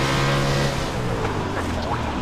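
Dense engine roar of several World of Outlaws sprint cars at a green-flag restart at Williams Grove Speedway in the iRacing video game, loud and sustained with layered tones.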